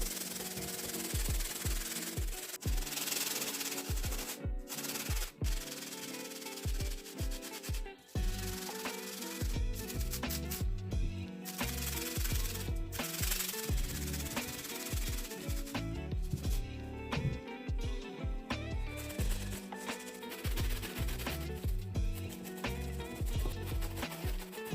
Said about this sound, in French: on prend la brosse médium. Et on va se nettoyer tout ça.